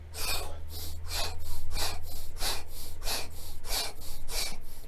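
Forceful breathing, in through the nose and out through the mouth, as part of an energy exercise routine: a rhythmic run of about ten close, rasping breaths over a low steady hum.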